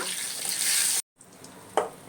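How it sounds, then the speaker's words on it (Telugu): Tempering spices fry in hot oil, sizzling briskly for about a second, then cutting out; a quieter hiss follows with a single sharp clink. "పోపు బాగా వేగనివ్వండి. ఎంత బాగా వేగితే అంత మంచిదన్నమాట."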